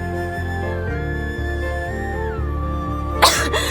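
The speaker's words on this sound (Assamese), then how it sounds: "আৰে তোমাৰ কি হৈছে ইমান কাহিছা" A single sharp cough from a woman in an Assamese romantic short film, close by and sudden near the end, over soft sustained background music.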